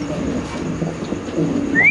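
Spanish pigeons coo softly in low, murmuring repeated calls at close range, with a brief higher chirp near the end.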